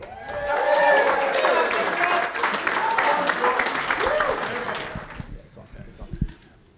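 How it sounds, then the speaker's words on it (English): Wedding reception guests at the Royal Botanic Garden Sydney applaud and cheer loudly, a dense crowd sound with voices mixed in that fades out toward the end, leaving a few scattered noises. "let's keep that applause going for Liz's dad, John."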